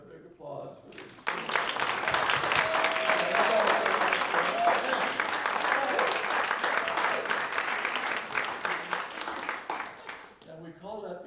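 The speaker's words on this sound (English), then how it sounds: "I would like for everyone to give them a big applause for this." Sustained applause from a large audience fills the room for about ten seconds, starting abruptly after a brief pause and fading near the end, with some cheering mixed in and no speech over it.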